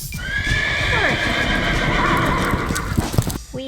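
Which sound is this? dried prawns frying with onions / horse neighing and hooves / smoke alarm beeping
horse neighing and hooves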